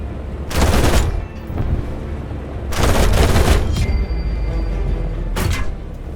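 Aircraft machine-gun fire in War Thunder during a dive on IL-2 attackers, three loud rattling bursts of rapid shots separated by engine drone.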